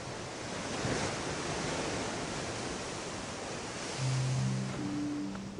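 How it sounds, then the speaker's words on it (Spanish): Sea waves pound a steep volcanic cliff coast on the Canary Islands gulf, a loud, continuous broadband roar of surf with a swell of heavier crashing near the end. "El mar golpea con fuerza contra la acantilada costa volcánica del Golfo."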